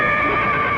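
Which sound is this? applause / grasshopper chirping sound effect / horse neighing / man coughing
horse neighing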